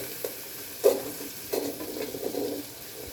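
Spices being sautéed in a pan for egg noodles, a few close scraping stirs over a soft, steady sizzle, brief and without any talking.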